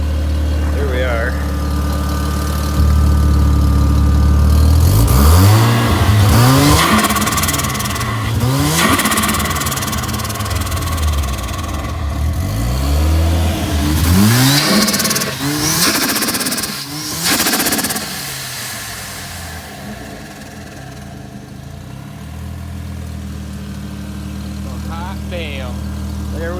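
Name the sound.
Eunos Cosmo 13B rotary engine running and revving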